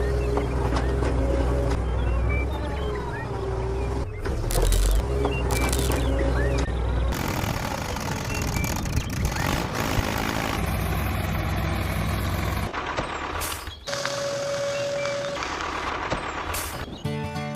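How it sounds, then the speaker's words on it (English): A mini tractor and a JCB run their engines while sand is loaded onto the tractor trolley. A loud, continuous engine rumble fills the whole stretch, with clanks and rattles over it. "first loaded sand onto his own mini tractor trolley with the help of a JCB"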